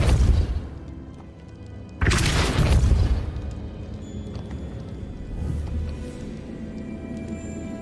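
Depulso spell blast in the Hogwarts Legacy video game, a sudden booming whoosh and thud heard twice, loud and close, followed by softer game ambience and faint chimes.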